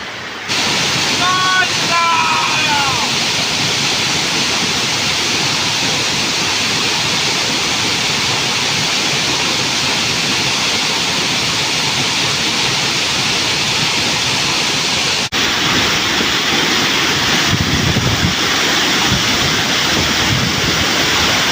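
Giridibandha waterfall in Keonjhar, a steady loud rush of falling, flowing water filling the scene throughout, with brief faint voices near the start.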